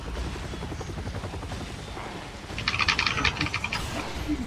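A helicopter in the video game Resident Evil 6 hums with a rapid rotor chop that swells louder partway through, with faint clattering in the background.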